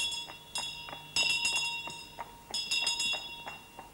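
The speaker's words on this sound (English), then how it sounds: "this is a bell like the one the town crier used" A town crier's hand bell, one of a set of eight, rings out in bright, clear strikes that repeat in irregular clusters, close and fairly loud over a faint background.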